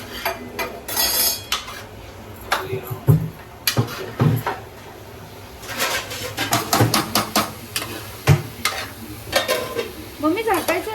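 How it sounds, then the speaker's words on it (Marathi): Grated carrot halwa is stirred in ghee in a metal pan, with a utensil scraping and clinking against the pan over a soft sizzle in an irregular, busy rhythm. "आता हे सगळं आपण व्यवस्थित हलवून घ्यायचंय."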